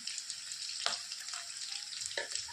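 Chopped onion sizzles and crackles in hot oil in a pan while a mixed brinjal and soybean vegetable dish is cooked, a steady close fry with a few sharper bursts and stirring sounds.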